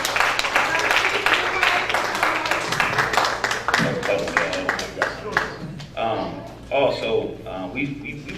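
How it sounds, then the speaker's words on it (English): A round of applause at an athletic banquet, a crowd clapping loudly at first and then thinning out as a voice starts speaking over the last claps. "I just want to give them a round of applause for such a good"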